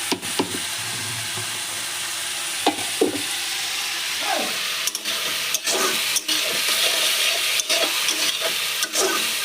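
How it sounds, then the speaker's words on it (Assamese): Cauliflower and potato bhaji sizzles steadily in a pan while a spatula stirs and scrapes it in a home kitchen, with intermittent clinks and scrapes over the constant hiss. "অলপ ভাজিখিনি ভাজি লওঁ ৰ'ব মই"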